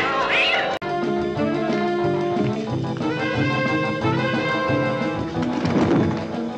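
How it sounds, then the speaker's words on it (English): A cat meows over busy background music, a short plaintive cry near the start, with a single thump shortly after. "Holy cats! A cat!"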